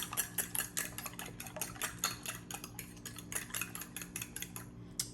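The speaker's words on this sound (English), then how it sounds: "with a fork or a whisk, just whisk up your eggs." Eggs being whisked with a fork or whisk in a bowl while making pumpkin pie. A quick, steady run of light metallic clicks and taps against the bowl, close and fairly quiet, with no voices.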